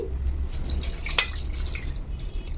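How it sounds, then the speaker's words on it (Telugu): Water is poured into soaked dosa batter, giving a short liquid splash and drip that peaks briefly, close by and alone. "ఇప్పుడు ఇందులో మనం వాటర్ వేసుకొని"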